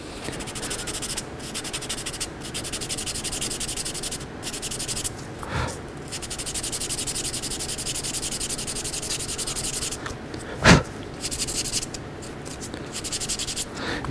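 Continuous rasping of 150-grit sandpaper against a wood spindle turning on a lathe, steady and close, with one brief louder scrape partway through.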